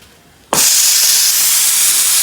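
Lentils (dal) boiling on a stove as steam suddenly bursts out with a loud, steady, close hiss that starts abruptly and holds for nearly two seconds, with no talking.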